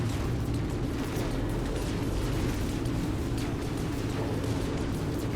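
Distant battle gunfire rumbles on in No Man's Sky, a constant low roar with faint scattered pops and crackles running through the whole stretch, no voices over it.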